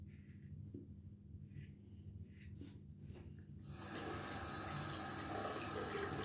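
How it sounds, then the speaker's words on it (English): Quiet splashing and faint breathing while wet shaving with a Merkur 34G razor, then a tap opens and water runs loudly and steadily as the razor is rinsed. "a little bit harder to rinse off the razor actually"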